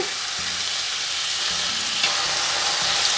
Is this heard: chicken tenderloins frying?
yes